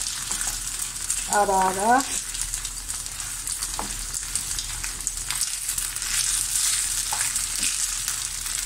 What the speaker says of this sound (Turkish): Şöyle pirinçleri karıştıralım, yanmasın.